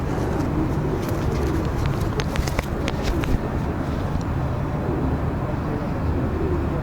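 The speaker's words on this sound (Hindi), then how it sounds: "ये फ़कीर गुल कबूतर है।" Faqir Gul pigeons, a breed from Karachi, coo softly in a busy loft, with a few brief flutters and clicks near the middle over a steady wash of background noise.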